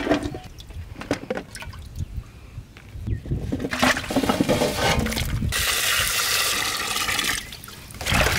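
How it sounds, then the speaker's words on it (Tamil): Green chilies and tomatoes are washed in water for a ginger chicken recipe, with splashing and a steady rushing, pouring flow up close that grows fuller midway. "பச்சை மிளகா தக்காளி கழுவ போறேண்ணா"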